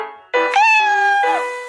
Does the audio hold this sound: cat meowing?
yes